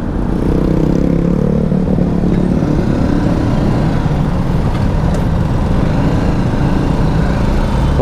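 Engine noise from road traffic as a motorcycle passes nearby, a loud continuous low rumble and clatter that holds steady throughout, heard from close range.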